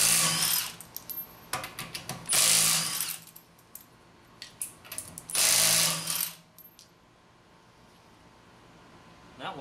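An impact wrench rattles in several loud bursts of varying length, spinning off 19 mm lug nuts from a Honda Civic wheel, with a quieter gap and light handling noises in between.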